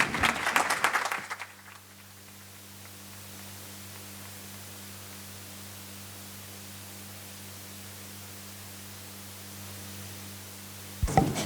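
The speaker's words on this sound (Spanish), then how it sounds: "Un aplauso, porque muchísimas gracias." An audience applauds at a public talk, a dense burst of clapping for about a second before fading into a low, steady room hum, with a brief return of clapping at the very end.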